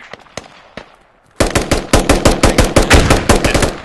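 Gunfire in the tactical shooter Squad, with a few spaced single shots, then a loud, close sustained automatic burst of rapid, evenly spaced rounds that continues to the end.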